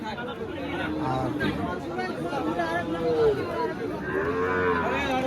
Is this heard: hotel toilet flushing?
no